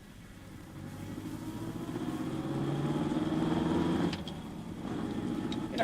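A small car's engine running and revving steadily from inside the cabin, a low hum that builds, dips briefly, then continues.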